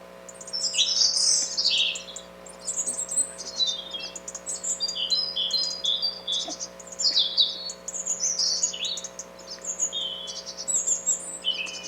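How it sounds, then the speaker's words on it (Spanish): Game-audio bird container built in Unreal UDK, playing layered bright chirps and tweets that come in repeated bursts over a faint steady ambient hum, with no voices present. "Este es un ejemplo de un contenedor de pájaros."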